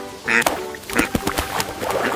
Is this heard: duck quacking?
yes